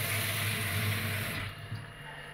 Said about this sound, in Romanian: Și acum punem apă, mai punem încă un pic